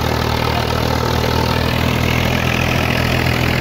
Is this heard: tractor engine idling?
yes